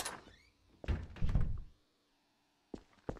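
A door opens in Garry's Mod, in a haunted-house horror map: wooden thunks and a creak lead into a short low rumble, then quiet, then two sharp knocks or clicks near the end. Nobody talks.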